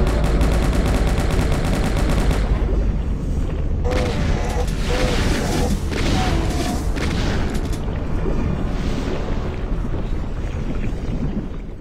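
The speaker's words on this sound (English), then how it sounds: "dodge incoming fire and shoot at them until they die" Dense, loud gunfire and explosions from demons and the player in a modded Doom video game, continuous booming blasts and rapid shots filling the whole stretch.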